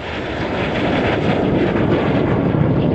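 A 1960s-era Russian MiG-17F jet fighter roars past at an air show weekend event, a loud, steady broadband jet rumble that swells slightly and holds for about three seconds with no voices.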